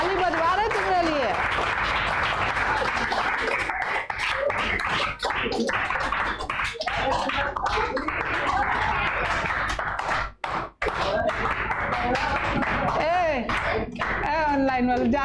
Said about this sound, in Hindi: देखो ताली बजवा रहे तुम्हारे लिए।